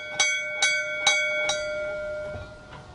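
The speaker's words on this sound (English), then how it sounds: "And here we've got the ship's bell." A ship's bell aboard the Boston Tea Party ship Beaver rings four clear, evenly spaced strikes close by, each leaving a bright ringing tone that decays into faint room noise.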